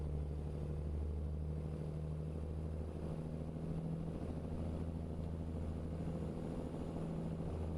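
An 850 horsepower truck engine in Euro Truck Simulator drones steadily at a low, even pitch, a continuous rumble with a faint higher whine layered over it and no break throughout.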